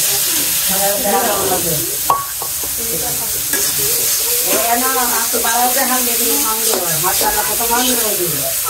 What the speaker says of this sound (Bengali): ভেজে নি তেল গরম হয়ে গেছে